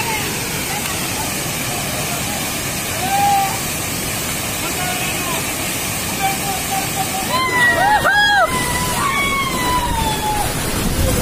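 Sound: Panchghagh waterfall rushing water in forest

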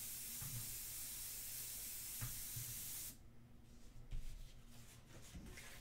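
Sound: airbrush spraying ink

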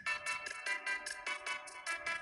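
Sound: phone ringtone, loud remix

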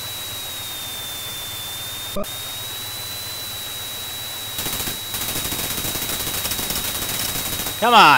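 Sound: aircraft gunfire in the video game Chuck Yeager's Air Combat

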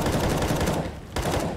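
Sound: gunshots in the video game CS:GO

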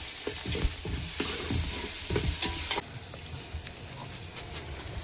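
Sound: crushed ginger and garlic frying and stirred in pan

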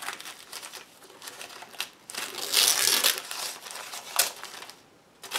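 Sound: ripping the edge of a book page

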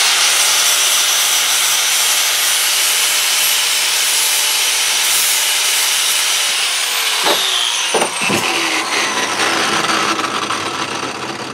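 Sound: grinder smoothing metal glove parts

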